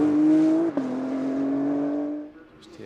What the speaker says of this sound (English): Just hear that car working incredibly well, hard on the power